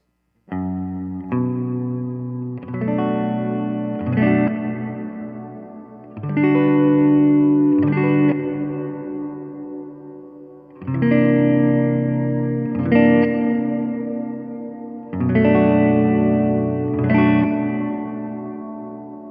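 Electric guitar chords strummed in phrases through a Source Audio Ventris Dual Reverb pedal on its normal hall setting, each one ringing out with a spacious hall-like reverb tail before the next begins.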